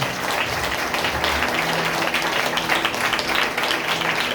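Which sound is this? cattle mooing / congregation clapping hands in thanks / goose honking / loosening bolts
congregation clapping hands in thanks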